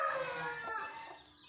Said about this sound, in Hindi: अब ये मुर्गी है